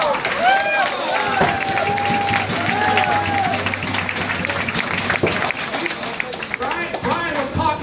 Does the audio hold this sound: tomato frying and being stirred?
no